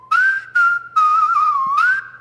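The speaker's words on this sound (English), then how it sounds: "just whistle melodies in general are the worst" A clear, close whistled melody, broken into a few sustained phrases with short gaps, pitch gliding up and down.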